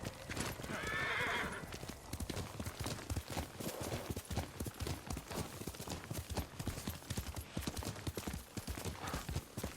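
In Ghost of Tsushima, a horse neighs loudly at the start, then hooves clop in a steady rapid rhythm on hard ground, close and continuous.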